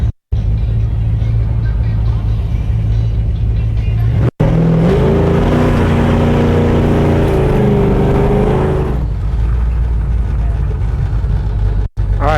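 A 1967 Plymouth Barracuda A-body on a Goodguys Columbus autocross course, its V8 engine droning loud and close, rising in pitch as it accelerates through the middle and then settling back.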